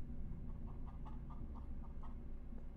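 Chickens in the video game Trouble in Terrorist Town cluck in a run of soft, evenly spaced calls, faint under a steady background noise, with no talk.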